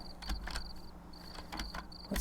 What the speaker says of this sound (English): We have the sound of the crickets.